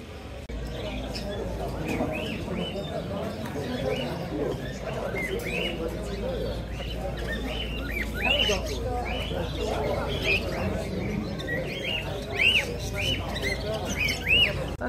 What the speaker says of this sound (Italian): Tanti uccellini in vendita